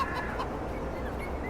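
Chickens in a farm video game make a steady, faint fowl chatter that runs under a low ambient bed throughout, with no talk.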